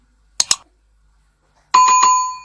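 A short chime rings twice, then a bright bell notification dings three times in quick succession and rings out, loud and clear with no voices.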